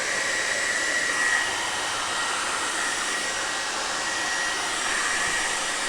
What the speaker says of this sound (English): I'm going to take my blow dryer